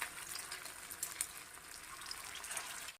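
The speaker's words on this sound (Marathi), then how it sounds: "एक एक ही टिक्की या तेलामध्ये ठेवून घ्यायची आहे" Tikki patties set one by one into hot oil in a pan over low heat, giving a soft, even frying hiss with light crackles, faint and close.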